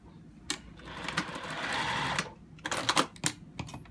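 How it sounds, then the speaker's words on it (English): A sewing machine stitches a short partial seam of about three quarters of an inch. Scattered clicks of positioning the fabric lead into a brief, close, steady whir, which stops and gives way to more handling taps. "I'm actually going to sew about 3/4 of an inch and then I'm going to stop."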